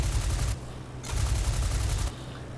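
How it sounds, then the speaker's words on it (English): Rapid machine gun fire in the IL-2 Flying Circus flight combat game, two dense bursts of rattling shots over a constant low engine drone, loud and close. "So I'm going to take a few shots at him and then break it off."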